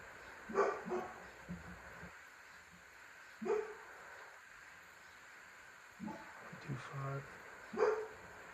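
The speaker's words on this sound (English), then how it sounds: "my lovely dog is barking at somebody out the window" A dog barks several times in short bursts, spaced apart, over a quiet room background.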